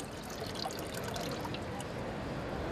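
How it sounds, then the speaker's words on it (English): Water tipped out of a filter bottle, a steady close trickle and splash that runs throughout. "So tip it out and start again."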